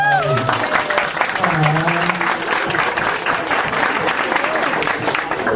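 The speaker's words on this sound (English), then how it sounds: "A big round of applause for this great guy." Fan convention crowd in São Paulo applauds a guest actor, loud dense clapping throughout with voices and a shout rising briefly at the start and talk mixed in underneath.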